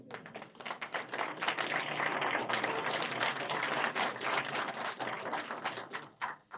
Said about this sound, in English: let's give another round of applause to our graduating class of 2602